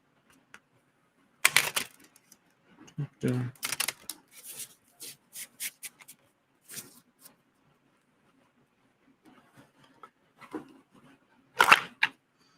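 Tarot cards are shuffled in short, quiet bursts of riffling and slapping, with pauses between them and near-silence in the gaps.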